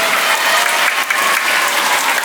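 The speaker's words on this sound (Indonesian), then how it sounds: "Kita beri tepuk tangan untuk semua petugas liturgi." A church congregation applauds the liturgy ministers and choir at Easter Sunday Mass, a loud, dense wash of clapping that holds steady from start to finish.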